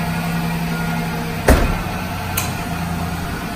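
A vehicle engine idles steadily and close by after starting up, with a low, even hum broken by a sharp clunk partway through and a fainter tick soon after.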